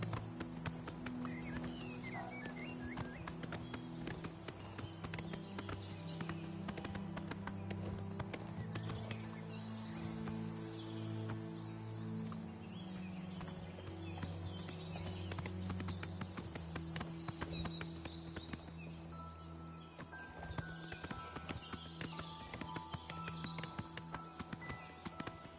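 Horse hooves clip-clop steadily in an even trotting rhythm inside the video game Oblivion Remastered, close and continuous, layered over game music and ambient sounds, with no talking.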